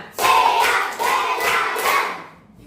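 A classroom of students clapping in a counted routine, five loud bursts of unison hand claps in quick succession, close and clear with no talking over them.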